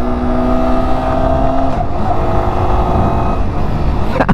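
A 2022 Yamaha R15M motorcycle engine under way on a ride, loud and close, a steady high drone that drops in pitch as it shifts, then rising again, with wind rush throughout.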